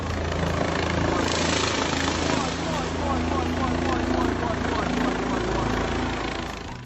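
Helicopter flying close over a palm tree, a loud sustained rotor chop and engine roar, steady and near throughout before easing off slightly at the end.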